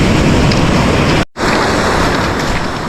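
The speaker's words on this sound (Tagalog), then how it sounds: "Malaking alon mga master." Big ocean waves surging against a rocky shore fishing spot, a loud, continuous wash of surf with wind noise, briefly cut out for a moment midway before the roar resumes.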